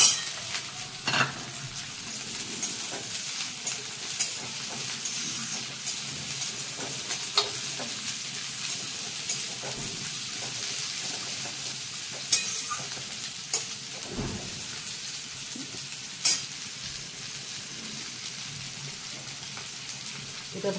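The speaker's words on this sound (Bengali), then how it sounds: "আলু আর পেঁয়াজ একসঙ্গে ভাজি।" Potatoes and onions fry in a pan for a cauliflower dhoka dish, sizzling steadily while a utensil scrapes and stirs, with occasional sharp clacks and pops throughout; faint and continuous with no talking.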